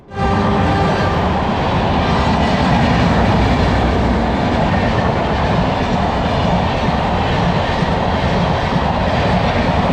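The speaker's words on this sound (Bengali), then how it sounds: "আর কিছুক্ষণের মধ্যে আমাদের ট্রেন প্রায় খড়গপুর ঢুকছে" A passenger train nears Kharagpur, rolling steadily along the rails, a loud continuous rumble with rhythmic clatter from the wheels, with no voices.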